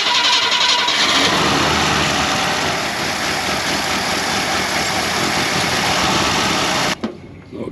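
A 1967 Ford Galaxie engine cranks and catches, then runs loud and rough with an uneven, stumbling misfire for several seconds before cutting off abruptly, followed by brief quiet rumbles.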